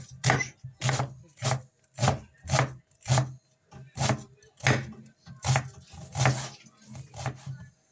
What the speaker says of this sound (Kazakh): Шуамызды турап аламыз.